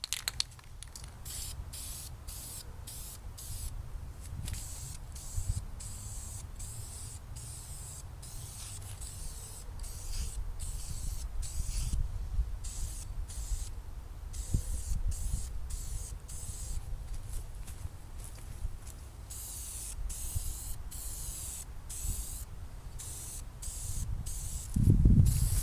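Second coat of spray paint going onto a car valve cover: repeated short hissing bursts from an aerosol can, close and fairly loud, separated by brief pauses with a few longer continuous sprays.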